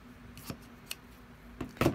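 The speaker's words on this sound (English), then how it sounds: "Let me get the scissors that I use for this. So we're going to cut this out here." Scissors snip quilt fabric in a few sparse, crisp cuts at close range, with a quick double snip near the end against a quiet indoor background.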